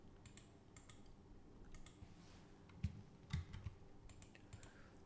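A command typed on a computer keyboard while flashing MicroPython firmware onto an ESP32 with esptool: faint, sparse key taps with a few louder clicks over a low room hum.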